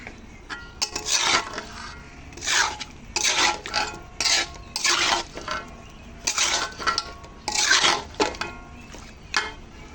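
Raw mango pickle in a pan gets stirred and scraped, with repeated bursts of spoon-on-metal scraping and clatter in an uneven rhythm, close and moderately loud, with no talking.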